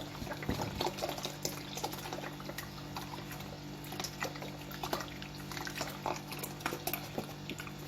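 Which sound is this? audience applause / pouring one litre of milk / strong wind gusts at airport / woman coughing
pouring one litre of milk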